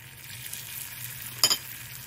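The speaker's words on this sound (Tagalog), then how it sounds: "Atin nang iluto ang ating lotus chips." Thin-sliced lotus root chips fry in a pan with a continuous soft sizzle and crackle, broken once by a brief clink of a utensil against the pan near the end.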